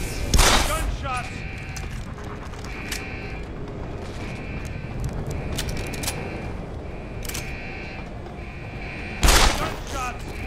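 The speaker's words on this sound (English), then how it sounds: "Gunshots!" Gunfire in the action video game Deus Ex: Human Revolution, with a sharp burst of shots near the start and another near the end, separated by scattered lighter cracks over a low game ambience.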